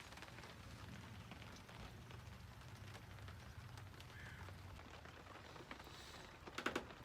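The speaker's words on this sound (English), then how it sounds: "but we got a little bit of rain" Steady, soft patter of rain on a sailboat, a continuous hiss with a few sharper drips near the end.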